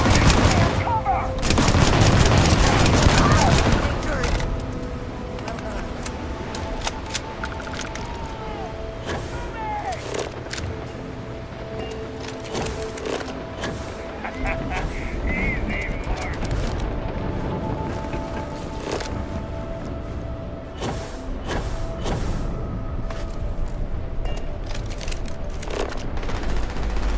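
A firefight in the video game Starfield, with dense, continuous bursts of automatic gunfire and booming impacts that are loud and close at first, then crackle steadily on. Voices are faintly present.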